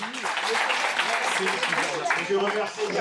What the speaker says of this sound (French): si vous pouvez applaudir les plus jeunes notamment